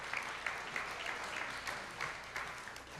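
Audience applause at an applied art and design awards evening, a steady wash of many hands clapping at moderate, fairly soft level for about three seconds, with no voices over it.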